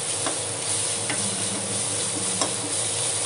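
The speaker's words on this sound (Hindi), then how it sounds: "और इसे थोड़ा सा भून लेंगे जिससे कि इसका कच्चापन चला जाए" Grated ginger sautéing with onions in a pan for a matar paneer curry, giving a steady close sizzle with soft stirring scrapes and a few sharper clicks of a utensil.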